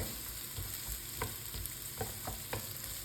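Onions sautéing in a pan for pork ribs, a quiet hiss of frying with a few light stirring scrapes.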